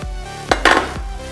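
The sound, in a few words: stirring butter into ganache in a bowl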